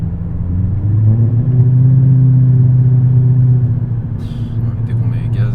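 A Mercedes CLK500 engine on throttle: a loud, deep, steady rumble with a strong low hum that swells, holds, then eases slightly, with a brief clatter near the end.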